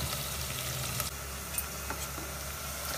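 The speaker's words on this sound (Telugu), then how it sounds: "చూడండి, బాగా ఆయిల్లో ఉడుకుతున్నది" Oil bubbling steadily in a pan for a South Indian masala sambar tempering, a dense continuous sizzle with a few faint clinks, close and alone with no talk.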